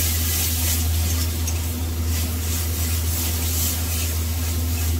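A spiced stuffing mix of salt, sugar and garam masala for stuffed pointed gourd is stirred in a hot pan, giving a continuous close sizzle and scraping hiss over a low steady hum.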